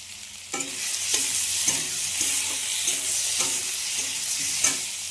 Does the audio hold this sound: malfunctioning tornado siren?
no